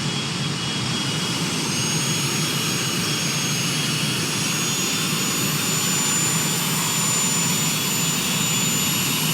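Aircraft engine droning steadily during a back taxi on a runway, a loud continuous jet-like whine and roar that holds level throughout with no voices.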